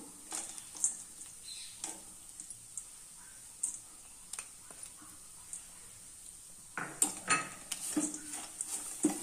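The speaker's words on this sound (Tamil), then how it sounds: "எல்லாத்தையும் நல்லா சேர்த்து மிக்ஸ் பண்ணிக்கிறோம்." Blended almonds and cashews being mixed in a bowl: quiet scraping with sharp clinks and taps of a spoon against the dish, irregular strokes, near and faint, denser toward the end.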